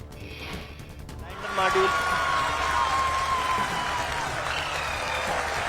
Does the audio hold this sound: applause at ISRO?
yes